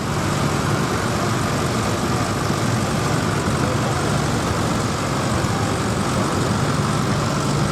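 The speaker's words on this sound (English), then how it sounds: "Now the little Ferguson. Diesel version there." A small Ferguson diesel tractor engine runs steadily at a show arena, a continuous low rumble mixed with broad outdoor noise and crowd murmur throughout.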